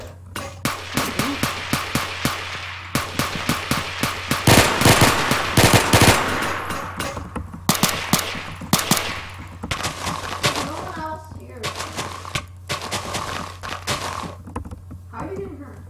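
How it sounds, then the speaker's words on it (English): Rapid bursts of gunfire crack through a blocky Minecraft-style survival game with guns, including a minigun, coming in repeated volleys with a low steady hum underneath and some talk between the shots. "the shots are getting closer"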